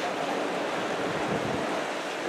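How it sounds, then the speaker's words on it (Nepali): Strong midday wind sweeps across a bridge at Kagbeni on the way to Muktinath, a loud, continuous roaring rush buffeting the microphone, with no voices. "यहाँ एकदम ठुलो हावा चलिरहेको छ"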